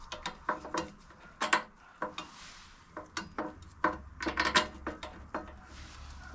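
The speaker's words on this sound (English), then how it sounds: "get the torque wrench" Ratcheting clicks from a torque wrench tightening wheel bolts on a Harley-Davidson Touring motorcycle, a series of short mechanical bursts in uneven groups, close and fairly quiet with a low background hum.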